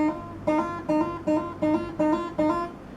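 A single electric guitar note with a hammer-on is sounded repeatedly, string picked once, six evenly spaced attacks, each ringing briefly before the next, clean and close with no talking.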